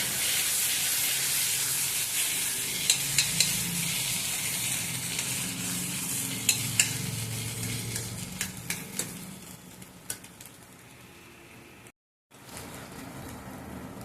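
Cauliflower frying in a pan while being stirred continuously, a steady close sizzle with scattered scraping clicks from the utensil, softening near the end with a brief drop to silence.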